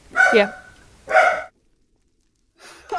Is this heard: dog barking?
yes